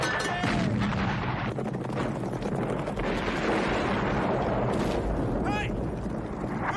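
Gunfire and booming blasts in a war film about light horsemen form a dense, continuous roar with rumbling low end, while shouted voices and whistling sounds rise above the din.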